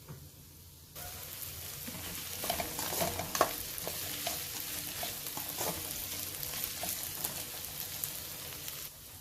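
Green chillies crackle and sizzle in hot oil in a pan for channa masala; the frying starts suddenly after a moment and continues under steady stirring scrapes with irregular spits and pops.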